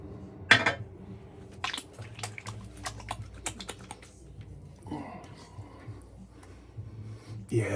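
Milky aftershave splash is poured and patted onto skin in a series of wet slaps and taps, with soft liquid squishes and clicks at close range under a low background.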